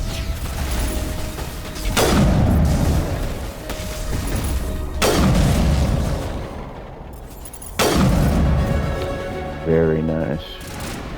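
A Geth enemy fires in Mass Effect. Three loud bursts of gunfire about three seconds apart, each with a rumbling tail, are heard over mechanical hum while someone briefly speaks.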